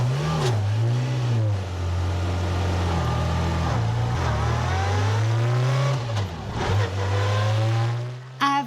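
A 95-year-old Bugatti engine drones steadily while driving on a road, its low tone rising and falling with gear changes and throttle, loud and close with no talking.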